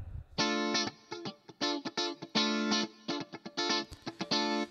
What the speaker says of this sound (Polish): przejdźmy do tej komórki, czyli sekcja live gitar, prawdziwe gitary